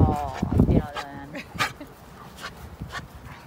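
A dog gives a few loud, close barks at the start, then pants and whimpers softly while people talk over it.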